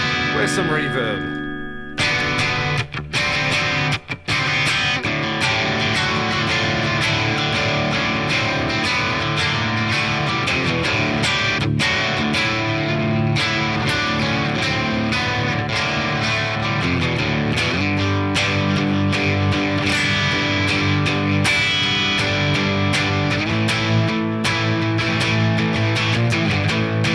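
An electric guitar in drop D tuning plays with heavy distortion and reverb, loud and continuous, ringing chords and droning low notes filling the whole stretch while someone talks over it at times.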